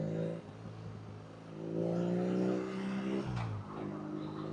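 A BMW motorcycle engine revs up and down, its harmonic drone rising, holding and then dropping sharply, loud and close with no voices.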